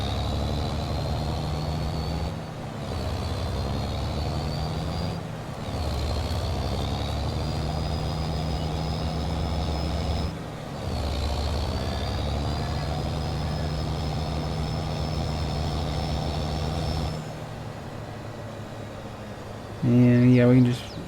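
Truck engine idling steadily in Farming Simulator 22, a deep constant rumble with a faint high whine, briefly dropping out a few times, then a short burst of loud tonal beeps near the end like a reversing alarm; someone talks over it.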